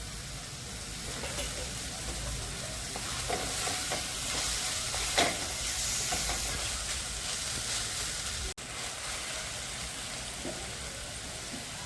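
Onion, tomato and garlic fry in a pan until soft, giving a steady, close hiss and sizzle with occasional stirring scrapes and light clinks over the continuous crackle.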